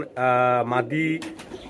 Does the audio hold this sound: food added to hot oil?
no